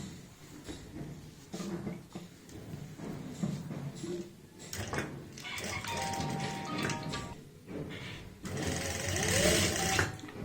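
A sewing machine stitches a kameez seam in short and longer runs, its rapid needle clatter rising and pausing repeatedly, close and moderately loud with occasional handling noises between bursts.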